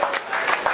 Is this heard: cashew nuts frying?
no